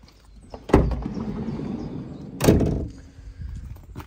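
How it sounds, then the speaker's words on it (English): A side loading door on a 2023 VW Transporter Kombi van slides along its runner, with a sharp thunk as it starts and another firm clunk as it shuts about two seconds later, close and clear with no talking. "second side loading door"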